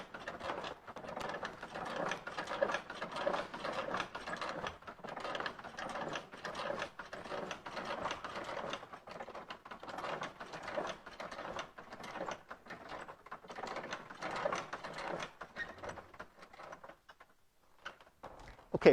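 An antique agricultural tool with a large crank handle is turned steadily, giving a continuous rapid ratcheting, gear-like clatter. It sounds close and moderately quiet, fades near the end, and no one speaks.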